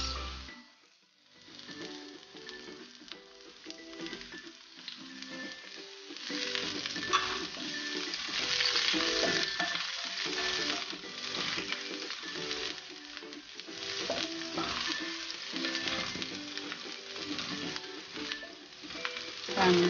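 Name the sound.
garlic and onion frying in pan for chicken afritada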